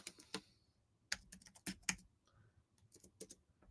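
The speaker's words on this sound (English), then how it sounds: "I was typing here." A computer keyboard is typed on in short bursts of sharp, close clicks, with a sparse, irregular rhythm and quiet gaps between keystrokes.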